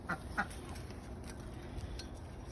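Ducks quack faintly on a home patio in the morning while being given treats, with two short quacks near the start over a low, steady background hum.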